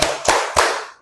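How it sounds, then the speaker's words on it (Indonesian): Three crisp, synchronized group claps from the tepuk semangat ice-breaker in a teacher training class, evenly spaced and near, each ringing briefly with no talking between them. "Kita ice breaking, tepuk semangat."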